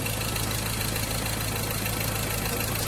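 A Ford Ranger 2.2 diesel engine that misfires under load runs at a steady idle, giving a continuous, even mechanical drone with a faint knocking texture and no voices.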